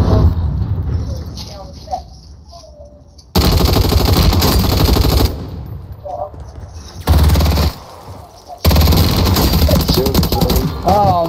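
Loud bursts of automatic gunfire in the video game Call of Duty Warzone, several sustained volleys broken by brief gaps, with a player talking between them.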